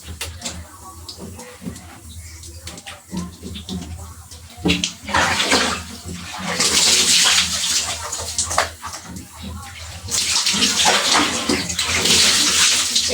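Water poured from a bucket during a bath, a broad splashing rush that swells in loud waves, strongest in two long bursts, with occasional quieter gaps between pours and no talk.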